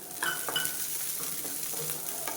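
Onions frying in a pan for a moong dal thovayal, with a soft, steady sizzle and a few light stirring scrapes. The sound is short and fairly quiet, with no talking.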